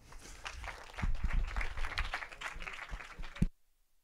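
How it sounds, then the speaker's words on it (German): A lecture audience at a tech-policy conference applauds a speaker arriving for a talk: moderately faint, mixed claps and some shuffling that swell after the first second, continue unevenly, then cut off suddenly. "Einen großen Applaus bitte"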